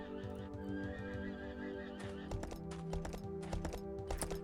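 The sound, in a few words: horses in video game Kingdoms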